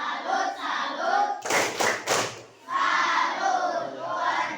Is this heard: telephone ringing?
no